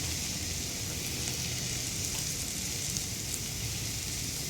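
Ginger, cumin and green chilli paste sizzles steadily in a hot pan, a loud, even, close frying hiss that carries on without breaks and with no talk.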